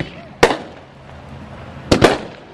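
Ring shell fireworks burst at a Total Blowout display, two loud sharp booms with crackling tails, the second a quick double, over faint background murmur.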